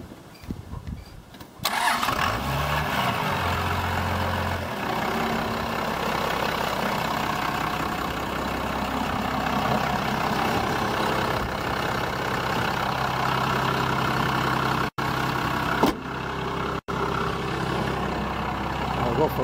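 A Dodge Cummins turbo diesel truck fires up and settles into a steady, loud, close idle with a deep clattering rumble that continues throughout.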